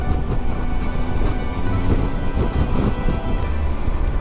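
Pouring rain on the Isle of Man gives a steady, dense rush of noise with a low rumble throughout and no pauses.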